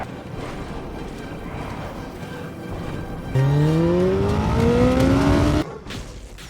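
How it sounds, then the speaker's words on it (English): A Kawasaki ZH2 motorcycle exhaust drones over road noise, then revs up sharply with a rising whine for about two seconds before cutting off, loud and fairly close. "in today's video we're going to discuss how obnoxious motorcycle exhaust can be"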